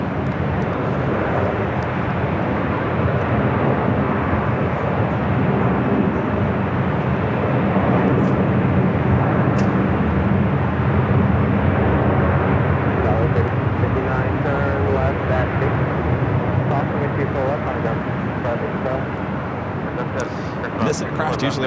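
A fixed-wing aircraft rumbles at Los Angeles International Airport, a broad, sustained engine roar that swells and holds over twenty seconds, with a voice talking over it.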